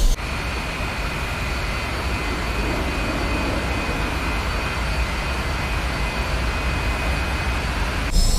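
A jet aircraft engine roars steadily on a runway in the DCS World flight simulator, a loud, constant whine and rumble that holds for the whole stretch before cutting off abruptly near the end.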